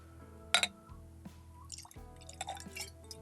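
Nikka Coffey Grain whisky splashes and drips into a glass in a short pour with a few distinct drops and clinks, close and fairly quiet, with no voices.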